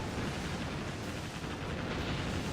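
Naval guns fire in the Warship Gunner 2 video game, a dense, continuous rumbling barrage of booming shots that blur together into a heavy, roaring wash, loud and sustained with no talking.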